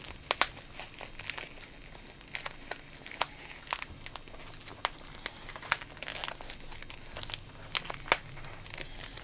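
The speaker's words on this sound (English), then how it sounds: "we are going to remove all of that excess stabilizer" Embroidery stabilizer being torn away from a machine-embroidered zipper pouch with a clear vinyl front, giving a steady run of close, crisp crinkling and ripping crackles with sharp irregular pops, no voices.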